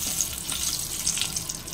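Bay leaves and dried chillies frying in hot oil in a home kitchen pan for a chicken dish, a steady, even hiss and sizzle filling the clip with no voices.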